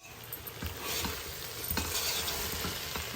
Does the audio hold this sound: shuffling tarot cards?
no